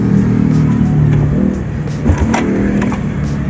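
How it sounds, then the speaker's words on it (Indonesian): A Yamaha Jupiter Z1 fuel-injected motorcycle with a running fault is tested on its electric starter, a loud steady mechanical whir that dips briefly and then resumes, with a few faint clicks and no speech. "Kita langsung tes starter saja dan kita cek."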